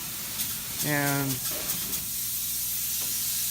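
Spray foam insulation hisses steadily from a spray gun during touch-ups on a house under construction in Mustang Ridge, a continuous broadband rush with a brief spoken word over it.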